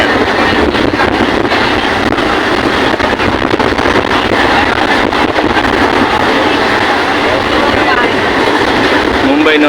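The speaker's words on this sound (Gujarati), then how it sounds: "મુંબઈનો દરિયો, એના ઉપર બ્રિજ, એના ઉપર ટ્રેન જાય છે ફાસમ ફાસ્ટ 120ની ઝડપે." A train crossing a sea bridge over the creek near Dahisar and Vasai in Mumbai at about 120 km/h, giving a loud, unbroken rushing rumble with heavy wind buffeting throughout.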